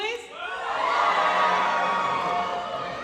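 A convention panel crowd at a K-Pop Demon Hunters event cheers and whoops for the Saja Boys, a dense, sustained roar of many voices with high shrieks, swelling and holding for a few seconds.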